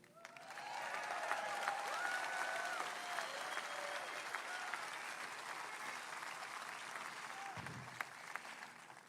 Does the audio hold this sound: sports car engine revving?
no